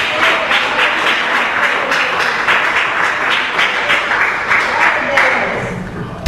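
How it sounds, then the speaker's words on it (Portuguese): A church congregation claps together in praise, a dense, steady wash of many hands filling the space at a loud level, with a voice talking briefly under it. "Podem bater as palmas com glória a Deus."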